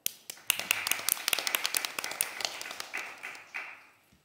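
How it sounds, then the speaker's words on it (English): An audience applauds a panel at a food waste and greenhouse gas emissions event, a warm round of clapping that builds quickly, stays dense for a few seconds and then thins out and fades. "please give us our panelists a round of a warm applause"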